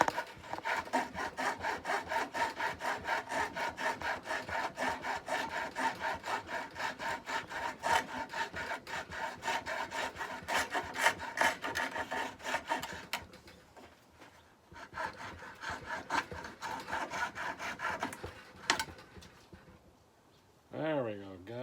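A hand saw rasps back and forth through wood in fast, steady strokes for a diddley bow build made from a tennis racket, pausing briefly before a few more strokes and a short scrape; speech is heard in between.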